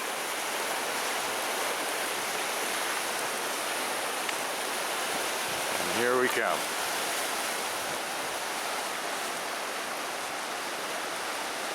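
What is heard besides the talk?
Vernal Falls waterfall rushing, Yosemite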